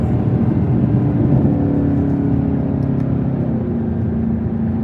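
A 2021 Camaro ZL1 1LE with a 10-speed automatic, shifted by hand, gives a loud, close engine drone from inside the car, its pitch rising and then easing slightly, with no voices.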